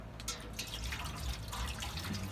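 Apple cider vinegar being poured into a smoker's water reservoir, a steady close trickle and splash of liquid running continuously without pause.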